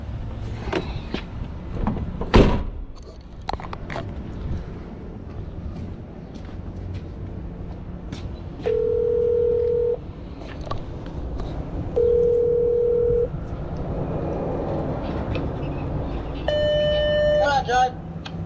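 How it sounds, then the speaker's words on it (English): Building intercom being dialled during a truck delivery round in Stockport, with two long steady electronic ringing tones, then a short burst of beeps, amid handling noises and a person talking. "so apparently there's an intercom system over there."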